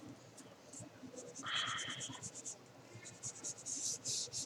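Pen or marker strokes writing math notation on a board or paper, a quiet run of short scratchy strokes with a few longer squeaky lines, close and faint, with no talk over it.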